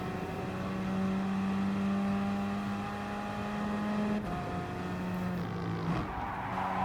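Gr.4 race cars at Dragon Trail Gardens II in Gran Turismo Sport roar steadily and loudly, with sustained engine tones shifting pitch and a tire squeal near the end, no talking.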